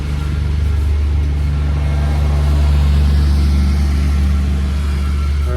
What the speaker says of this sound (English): that was the neighborhood handyman going by the lawnmower